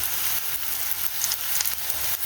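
Durian seeds frying in hot oil with chillies and onions, a steady close sizzle with crackling pops running through the whole stretch, no voices.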